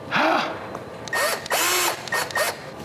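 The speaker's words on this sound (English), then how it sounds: "I'm gonna get the drill." A power drill whirs in several short bursts, its motor pitch sweeping up and down with each trigger pull, loud and close, during work on a Piper Aztec airplane.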